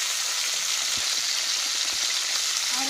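Mint leaves frying in a pan for a tomato and greens chutney, a loud, steady, dense sizzle with faint crackles throughout and no talk.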